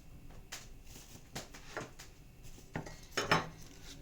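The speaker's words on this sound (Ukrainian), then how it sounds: "беремо ось такі пряники, ріжемо їх ось так пополам" Knife cutting soft gingerbread cookies in half for a no-bake cake: a series of light, close taps and clinks against a plate or board, spaced irregularly, with a sharper clatter near the end.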